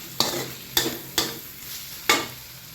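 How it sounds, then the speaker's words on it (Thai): Minced pork and shrimp being stir-fried in a pan: four sharp scraping strokes of a spatula over a constant soft sizzle, close and fairly quiet. "เดี๋ยวจะผัดให้แห้งหน่อย"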